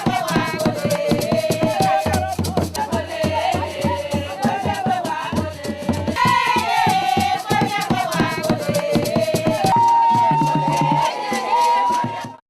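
A large crowd greeting the prime minister on a political tour in Woleu-Ntem, Gabon, a loud continuous mass of voices, chanting and singing with steady rhythmic cheering throughout, close and unbroken.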